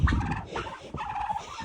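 Several turkeys gobble in quick rattling bursts, fairly near, overlapping each other in a short noisy flurry, on a snowy farm.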